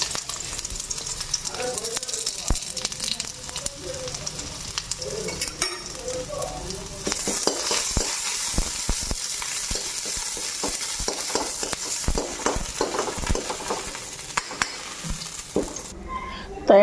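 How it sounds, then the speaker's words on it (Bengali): Ginger paste and radhuni spice sizzle steadily in hot oil, with stirring scrapes and clinks of a spoon against the pan throughout, close and continuous, and no talking. "তো এই যে আদা ছেঁচা নিচ্ছি, আর রাঁধুনিটা দিয়ে নিই এখন।"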